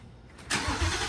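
A Mustang with its exhaust removed starts up close by, with a quick crank and then a sudden roar into a rough, throaty idle.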